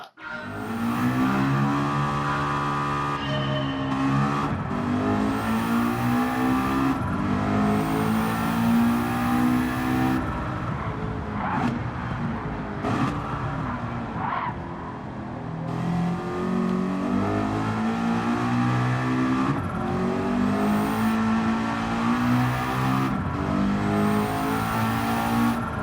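A mid-rear turbocharged car in Gran Turismo 7 roars loudly throughout, its engine revving up and down through repeated gear changes with brief dips between pulls, rising and falling steadily over the whole stretch.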